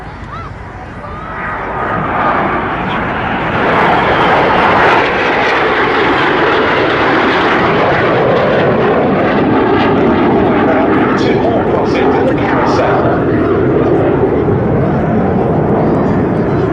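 A Strikemaster jet aircraft makes a flying display pass at the Duxford air show, a loud sustained roar swelling in after a few seconds and holding steady, with a commentator talking over it.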